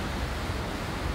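A powerful waterfall rushes in a constant, loud roar of falling water, a dense unbroken noise that fills the short stretch without a pause and with no speech.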